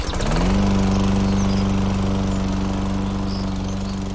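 A lawn mower cutting grass early on a Saturday morning, its engine revving up to a loud, steady drone close by and holding constant.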